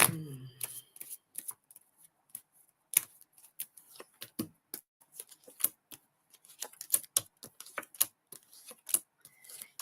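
Tarot cards shuffled by hand in a quiet room, a run of crisp, close riffles and snapping flicks in irregular bursts, with a brief voice at the very start.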